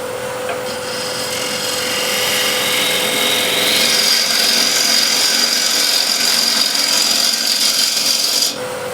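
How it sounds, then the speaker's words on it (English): Ball gouge making a push cut on wood spinning on a lathe, a steady continuous rasping hiss that holds for about eight seconds, close and fairly loud, then stops abruptly near the end. "Let's make a nice push cut with the ball gouge."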